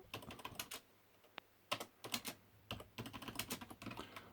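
Keys clatter on a NASCOM 2 computer keyboard, an irregular run of close, light taps with a short pause midway before typing resumes in quick bursts.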